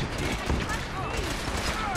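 Rapid bursts of gunfire from a battle in the video game Fallout 4, a busy crackling volley over about two seconds with someone speaking over it.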